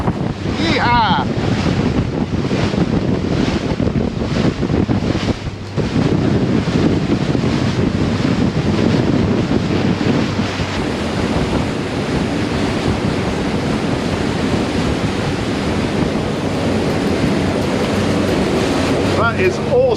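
A 2016 Seaward 42 motor yacht runs at about 25 knots through waves, with constant loud rushing water and heavy wind buffeting on the microphone, and no voices.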